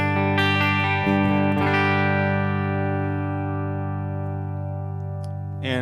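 A clean electric guitar chord rings out through a Boss Katana 100 MKII head with reverb and a touch of delay, a loud sustained tone that decays slowly, with a few picked notes near the start.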